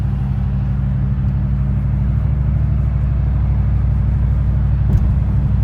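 A V8 truck engine cruises at 60 mph in full 8-cylinder mode with a Range AFM disabler fitted, giving a steady, even low drone and rumble that holds throughout with no talking.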